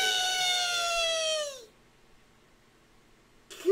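A cat gives one long, drawn-out meow that falls in pitch and lasts about a second and a half. Near silence follows, then a brief noise at the very end.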